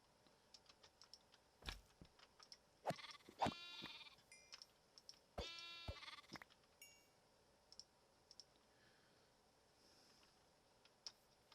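Minecraft sheep bleat a couple of times in short harmonic bursts amid game clicks and soft keyboard typing, all fairly quiet with no talking.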